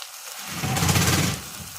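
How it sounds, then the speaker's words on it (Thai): Squid being stir-fried with fresh bamboo shoots and pork, a steady, close sizzle that swells in the middle and then eases off, with no talking. "ผัดปลาหมึกนะคะหน่อไม้สดกับหมูนะคะ"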